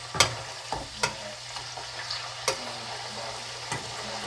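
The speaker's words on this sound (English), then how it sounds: "those burgers will finish frying like in no time" Jerked halal burgers frying in a very hot pot, a steady close sizzle broken by several sharp clicks and knocks from turning the patties.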